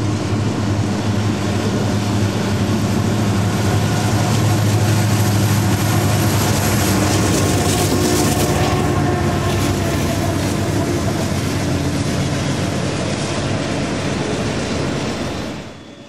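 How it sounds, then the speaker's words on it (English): Freight train NS11N, led by an SD70-series locomotive with foreign Union Pacific power on the head end, rounds a curve on the Pittsburgh Line, giving a loud, steady engine rumble and wheel roar that continues alone until it fades at the end. "our first train was creeping up on us, as NS11N rounds the curve with an SD78's leader and some foreign power on the head end"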